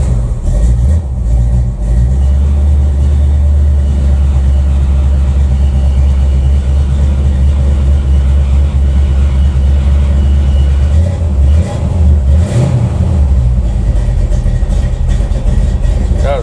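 A dirty 1987 Dodge Dakota engine, running again after two years, rumbles loud and close at a rough idle, then swells briefly in a rev before settling back.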